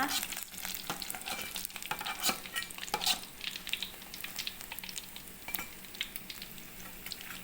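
Sun-dried tilapia frying until crispy in hot oil, a dense crackling sizzle with sharp spitting pops and occasional stirring scrapes throughout, close and steady.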